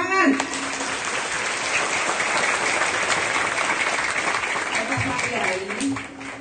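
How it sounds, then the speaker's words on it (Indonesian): Sustained applause from an audience at a charity Ramadan event for orphaned children, dense and steady clapping filling the room with a few faint voices underneath. "Tepuk tangan."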